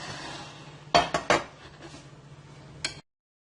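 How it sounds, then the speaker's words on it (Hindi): A knife chopping apple and other fruit into small square pieces on a board, giving two sharp close knocks early on, softer scraping, and one last crisp tap before silence. "इन दोनों के हम अब इस तरह चौकोर में पीसेस काट लेते हैं या इस तरह रेड के काट लेते हैं"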